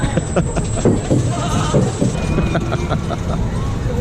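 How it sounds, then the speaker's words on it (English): Goats bleating in an animal area at the Parc Astérix theme park in France, with several close, loud bleats over busy crowd chatter and background noise. "Oh my gosh, there's goats!"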